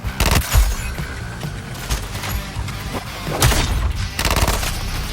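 Bursts of rapid gunfire and heavy booms in the action game Suicide Squad: Kill the Justice League, loud and close, in clustered volleys with brief pauses between.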